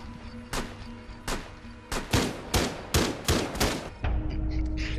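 Gunfire in Rainbow Six Siege: a run of sharp shots, single and in quick pairs, crack out in an uneven rhythm, loud and close, followed by a lower rumbling tail.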